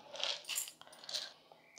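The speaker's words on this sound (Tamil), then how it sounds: "1 கைப்பிடியளவு வந்து பொட்டுக்கடல சேர்த்துக்கிறேன்." A handful of roasted gram dal drops into a mixer-grinder jar for chutney, giving a faint, brief rattling patter in a few quick bursts, with no voices.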